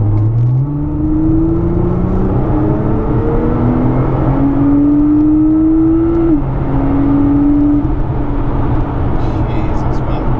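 A Litchfield-tuned Nissan R35 GTR accelerates hard with a loud, continuous engine drone, its pitch climbing in steps as it shifts up through the gears at close range.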